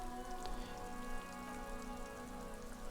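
Steady rain falls in the video game Disco Elysium, a dense, even patter on surfaces that continues without a break, with a low tonal hum of ambient music beneath and no voices.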